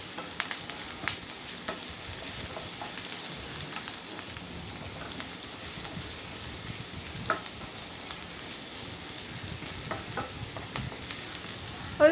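Finely chopped carrot stirred and fried in a pan for semolina upma, a faint continuous crackling sizzle with light scraping of the spoon, steady throughout and without talk.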